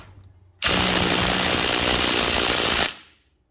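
Impact wrench undoing the rear sprocket fasteners of a Triumph Bonneville motorcycle, a loud, steady rapid hammering that runs for over two seconds and then cuts off, heard up close with no talking.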